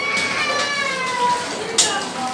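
Kitten meowing and crying for its mother indoors, thin high-pitched wavering cries repeating over a couple of seconds with a sharper cry near the end, against steady household background noise.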